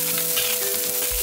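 Scallion stir-frying in soybean oil in an iron pot, a bright close sizzle with a quick stir, brief and continuous, no talking.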